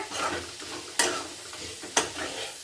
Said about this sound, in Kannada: ನೋಡಿ ಫ್ರೈ ಆಗ್ತಾ ಇದೆ ಈಗ ಚೆನ್ನಾಗಿ.